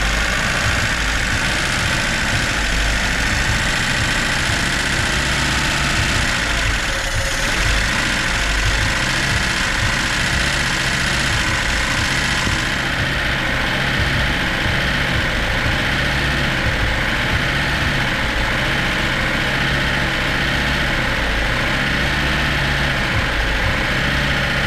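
An old Lada Zhiguli car engine runs at idle with a continuous rough, throbbing drone and a steady low hum, loud and close throughout, with slight changes in tone partway through.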